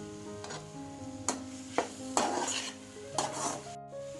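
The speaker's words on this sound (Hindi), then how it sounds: "स्टीविया को भी हम हमारे हलवे में मिक्स कर लेंगे" Stevia is stirred into carrot halwa in a pan, a few bursts of spoon scraping and clinking against the metal over a soft low sizzle, close and clear with no talk.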